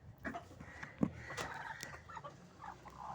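Hen clucking in a coop as eggs are collected, a few short clucks and calls at close range over faint background rustle, with no talk.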